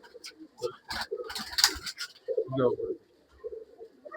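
Tara pigeons cooing in a loft in Bangalore, soft throaty coos close by, mixed with flutters and scuffs, while people talk over them.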